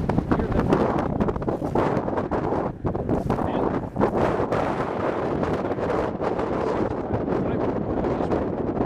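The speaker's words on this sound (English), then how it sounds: "wow, that's strong wind." Strong wind buffets the microphone on a mountainside above foothills and a canyon, a loud, continuous roar with gusty surges throughout.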